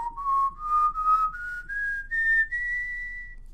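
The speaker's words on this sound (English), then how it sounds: "now we're going to go ahead and do the whistle test." A person whistles one rising, continuous tone for a microphone whistle test, climbing steadily in pitch over a few seconds, close and clear with no talking.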